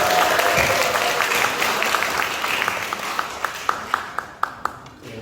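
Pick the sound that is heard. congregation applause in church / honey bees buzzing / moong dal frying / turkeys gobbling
congregation applause in church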